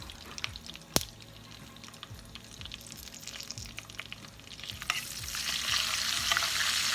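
White meat frying in a pan for polk sallet gives a steady sizzle with crackles and pops, plus an occasional sharp clink of a utensil, and the sizzle grows louder toward the end.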